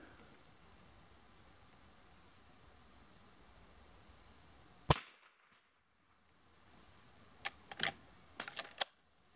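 A Marlin 1894M .22 Magnum rifle fires a single sharp, loud crack. A quiet gap follows, then a cluster of several shorter cracks sounds against faint background hiss.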